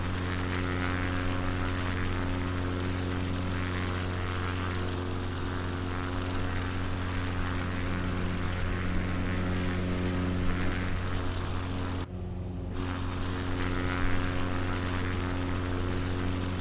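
A light propeller plane in flight, heard from inside the cabin as a loud, unbroken engine drone with steady harmonic hum and a brief dip partway through; no talking.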